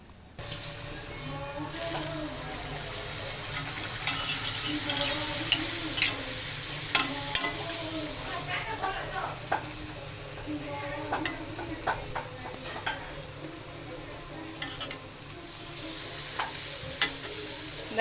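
Puris frying in hot oil with a steady, dense sizzle, a low background hum and occasional sharper crackles and clinks across the stretch, with no talk.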